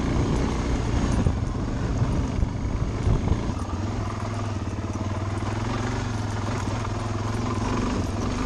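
A motorbike rides past near Greenwater, Washington, its loud, rough engine roar filling the clip, strongest early on and then holding steady.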